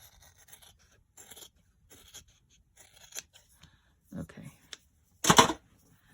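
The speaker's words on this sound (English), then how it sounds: "I'll do a straight cut down here" Scissors make a series of small snipping and rustling sounds while cutting paper in a straight line for a journal page, ending in a louder crisp snip.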